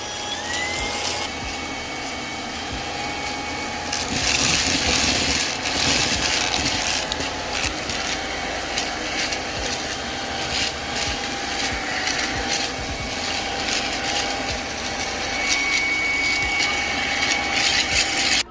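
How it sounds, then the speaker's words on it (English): MooSoo K23 Pro cordless stick vacuum runs steadily while sucking up Reese's cereal, its motor whine rising and falling with surges of rattling debris, close and loud throughout. "This thing has phenomenal suction, people."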